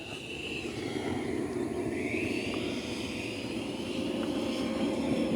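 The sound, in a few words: Hobby King F35 radio-controlled model jet landing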